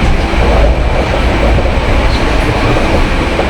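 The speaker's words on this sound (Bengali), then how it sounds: "5 মিনিট ওয়েট করার পরে ট্রেনটি ছেড়ে দিল।" The Puri Duronto Express rolls out of a station, heard as a continuous loud rumble with a steady wheel-and-track roar. No one speaks over it.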